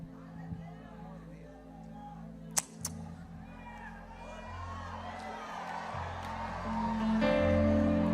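A church vigil crowd cheers and applauds to welcome Pastor Marco Feliciano, the noise swelling louder toward the end beneath a voice speaking over a microphone, with a couple of sharp bangs early on.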